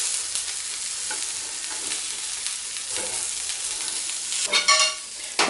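Grilled cauliflower sizzles steadily on a hot lidded grill, with a scrape and clatter of a spatula flipping the pieces near the end; close and continuous, no talking.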